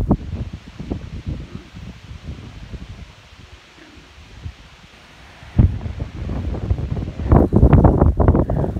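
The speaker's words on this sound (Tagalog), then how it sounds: "kita nyo naman, lakas ng hangin." Strong wind buffeting the microphone, steady roaring gusts with rumbling bursts that grow louder toward the end; no talking.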